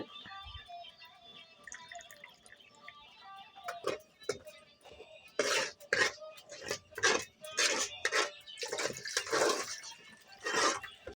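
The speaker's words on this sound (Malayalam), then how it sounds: "അടുത്ത് പുളിവെള്ളം ചേർക്കുകയാണ്. പുളിവെള്ളമാണ്." Tamarind water is poured into a fish curry, a run of splashy pouring and dripping bursts that grows busier and louder, with faint tonal background sound and a few brief knocks early on.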